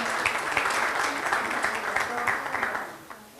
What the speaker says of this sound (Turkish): Ona da bir alkış rica ediyorum sizlerden.